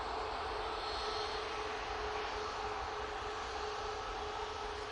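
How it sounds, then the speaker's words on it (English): An airliner takes off at Manchester Airport on derated thrust, producing a steady, unbroken broadband roar with a faint sustained engine tone that holds level throughout, with no voices. "They're really derating these takeoffs today"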